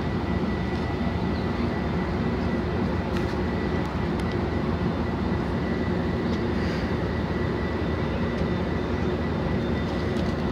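An Amtrak passenger train approaches with a loud, steady broadband rumble and roar that holds throughout. No one speaks over it.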